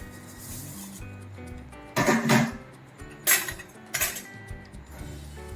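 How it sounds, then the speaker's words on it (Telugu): Vermicelli goes into a pot of boiling water for semiya upma and is stirred, with a few sharp metal clinks and scrapes of a spoon against the pot over a low bubbling background. "ఇవి సేమియాలు అన్నీ వేసేసుకుందాం"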